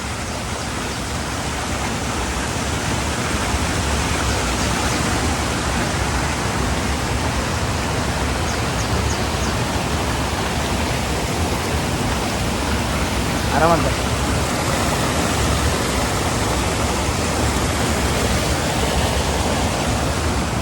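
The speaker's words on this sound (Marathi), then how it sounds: "नदी भरली पूर्ण वरपर्यंत आलंय पाणी" Loud, steady rushing of swollen river water, a constant broad roar with no pauses throughout.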